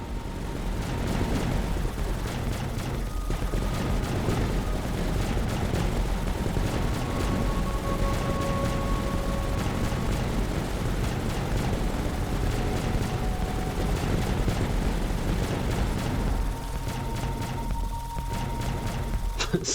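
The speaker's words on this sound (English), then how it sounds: "The orbital cannon is so cool, man." Heavy weapons fire in the Tower Dominions tower-defense game, including an orbital cannon: a dense, continuous barrage of loud rapid blasts and rumbling impacts throughout, with faint tonal whines drifting under the constant gunfire.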